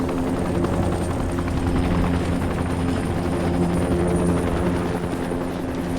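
Helicopter in the video game Dying Light, a steady droning rotor and engine hum with rhythmic blade thumping, loud and continuous throughout with no talk.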